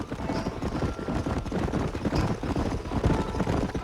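Horse hooves clip-clop steadily and close in Red Dead Redemption, a continuous rhythmic clatter of several horses riding on together for the whole stretch, with no talking over it.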